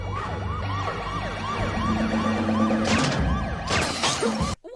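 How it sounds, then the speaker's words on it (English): A police siren wails in rising and falling sweeps, loud and close, with a few sharp crashing bursts near the end before it cuts off. "how did Francis get a police car?"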